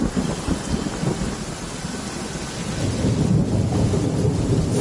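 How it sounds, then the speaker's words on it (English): A heavy rain and thunder downpour in the video game Genshin Impact, with dense, steady rain hiss and deep, rolling thunder rumbling underneath, swelling louder over the last couple of seconds, and no voices. "Taking a stroll in the middle of a downpour, certainly."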